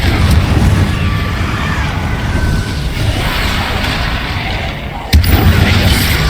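Blasting spell explosions from the video game Hogwarts Legacy: a constant low rumbling roar of magical booms and crackle, with a sharp loud blast near the end.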